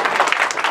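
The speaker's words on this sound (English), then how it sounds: "Let's warm ourselves up by giving Juan an applause." Audience applause for Juan Valencia, a brief, loud, close burst of many hands clapping together with no voices.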